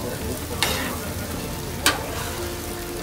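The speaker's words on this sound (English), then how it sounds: "I'm going to scrape that up so that goes into the dish with it" Metal spatula scraping steak and peaches across a hot Blackstone griddle: two quick, crisp scrapes over a constant loud sizzle, no voices.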